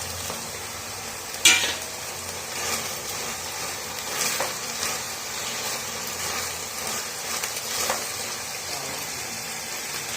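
Cashews and raisins stirred into sweet zarda pulao in a hot pan, a steady soft sizzle with scraping and stirring clatter and a sharp clink near the start.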